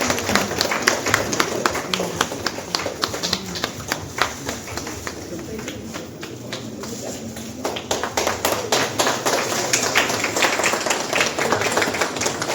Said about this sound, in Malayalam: കയ്യടി ആവട്ടോ, നമ്മുടെ ബാക്ക്ഗ്രൗണ്ട് മ്യൂസിക് നമ്മുടെ കയ്യടി തന്നെയാണ്